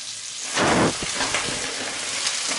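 Pork browning in a pan with chopped onion and garlic, a burst of loud hissing sizzle as the ingredients hit the hot fat, then a steadier crackling fry with stirring.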